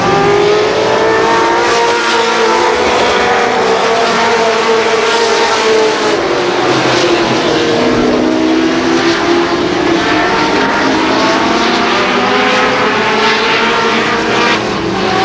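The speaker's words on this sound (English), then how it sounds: "Scott Drake trying to find a way around the MPH crane number 55" Mini stock race cars at Columbus Motor Speedway in 1990, with several engines roaring and revving together in a loud, continuous drone that rises and falls as the cars pass.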